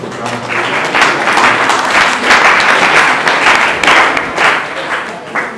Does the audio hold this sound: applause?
yes